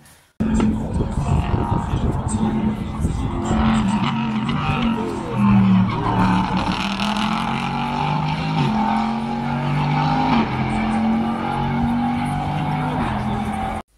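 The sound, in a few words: prototype race car accelerating out of corner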